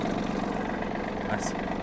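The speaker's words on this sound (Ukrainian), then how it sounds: "покажу, як працює тракторець на найнижчій передачі." A Yanmar F-200 mini tractor engine runs in its lowest gear with a steady, even drone, close and constant, while a person speaks over it.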